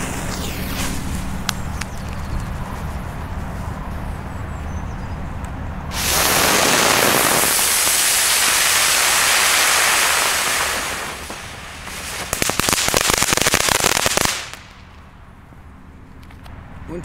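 An Xplode Storm ground bloom flower firework spins on the ground with a loud, sustained rushing hiss, then a second burst of crackling, fizzing whoosh. Quieter outdoor noise comes before and after.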